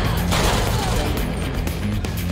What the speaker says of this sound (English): Who is shooting at us now?